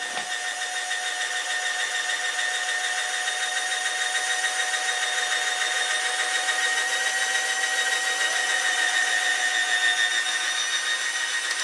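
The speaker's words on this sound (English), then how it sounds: "should hold the drill firm while I drill out this rivet" Small drill boring out a rivet on a die-cast Dinky Toys Jaguar Mk X, a steady high-pitched whine running continuously, close and alone without talk.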